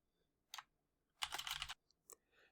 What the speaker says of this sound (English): Adding text is simply a matter of applying the cursor and typing.